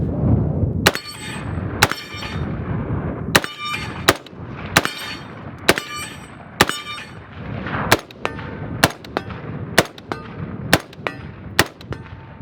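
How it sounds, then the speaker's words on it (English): A CMMG MK47 rifle fires about a dozen shots at steel targets 25 and 75 yards away on an outdoor range, each sharp crack followed by a ringing clang, spaced roughly a second apart and loud. "So we're just gonna keep shooting."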